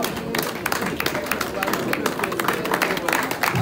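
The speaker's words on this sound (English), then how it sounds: "The members to stand up and clap for the president." Members stand and applaud the president at a school alumni reunion, a close, continuous wash of clapping with crowd chatter running underneath.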